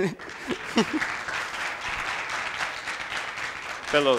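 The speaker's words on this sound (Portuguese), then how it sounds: "Uma salva de palmas para ele." Scattered clapping from a small group, fairly faint, with brief bits of voices at the start and end.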